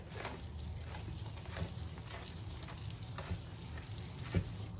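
Gribiha dough is mixed and mashed with flour in a bowl, giving soft, quiet, rhythmic squishing and scraping strokes that repeat steadily, with no voices over them.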